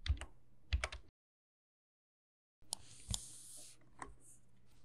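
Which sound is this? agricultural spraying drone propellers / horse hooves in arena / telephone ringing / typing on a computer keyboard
typing on a computer keyboard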